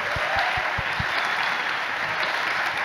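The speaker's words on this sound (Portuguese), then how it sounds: "Vamos aplaudir também, gente." A crowd at a big data technology conference claps in a dense, continuous wash of applause. A few low thumps sound near the start.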